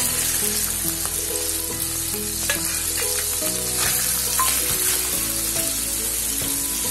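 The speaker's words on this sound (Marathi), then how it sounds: "थोडं जिरं घालूया आणि कांदा टाकूया।" Cumin seeds and finely chopped onion sizzle in hot oil for palak paneer, a loud, even crackle heard up close throughout, over a faint steady tonal hum in the background.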